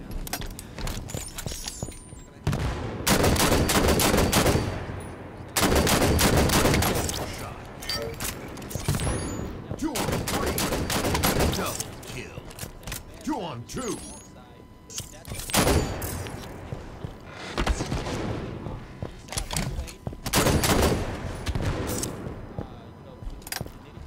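Rapid gunfire in the Halo 5 video game comes in loud, dense bursts of automatic shots separated by brief lulls, with players talking excitedly over the shooting.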